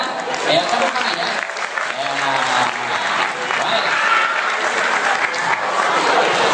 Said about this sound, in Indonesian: Ayo, tepuk tangan ya.